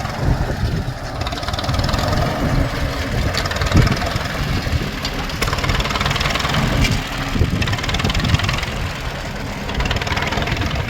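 A pre-war Austin tractor engine idles steadily and fairly close, a low chugging rumble with a rough, uneven beat that continues throughout.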